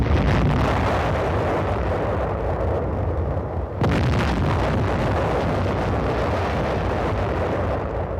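Naval and aerial bombardment of Inchon in the Korean War, a dense continuous roar of explosions and rumbling blasts from United Nations ships and aircraft, loud and unbroken, with a sharp fresh burst midway and no voices.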